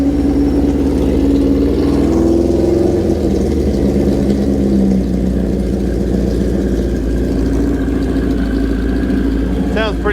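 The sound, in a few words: vintage motorcycle engine idling while warming up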